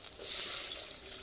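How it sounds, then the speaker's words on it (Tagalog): Water runs into a cooking pot in one short, steady pour with a bright splashing rush that swells and then slowly trails off. "Lagyan natin siya guys ng tubig."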